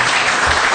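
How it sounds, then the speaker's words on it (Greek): An audience applauds after a speech at a sustainability conference, a dense, loud burst of clapping filling the whole short moment. "ευχαριστώ για το χειροκρότημα."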